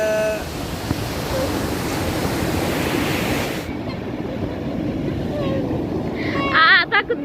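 Ocean surf breaks on the beach at Anyer as a steady, close rush of waves, heavily buffeted by wind on the microphone. The wash thins partway through, and at the end a voice rises briefly.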